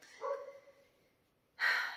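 A dog gives a short bark followed by a second, louder bark about a second and a half later, both close by, with quiet gaps between them and no talking.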